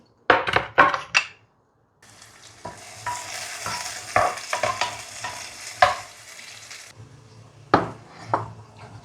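Chopped peppers sizzle steadily in a frying pan while a utensil stirs and scrapes, with a few sharp clacks at the start and end.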